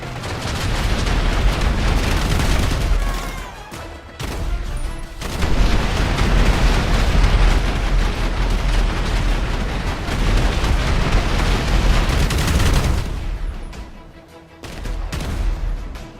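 Loud, dense explosions and bursts of gunfire from the battle game Free Fire roar almost continuously, with brief lulls between heavy blasts and no voices.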